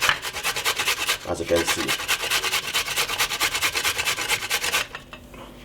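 Carrot grated by hand on a metal grater for an apple and carrot salad, a quick steady run of rasping strokes that carries on for several seconds before stopping, with someone briefly talking over it.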